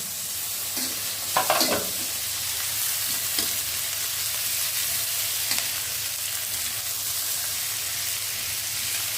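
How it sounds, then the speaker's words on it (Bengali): Onions fry in hot oil in a pan for noodles, a steady close sizzle with a few louder scraping stirs early on, then a softer continuous hiss. "এখানে হচ্ছে পেঁয়াজ ভাজা হইতেছে"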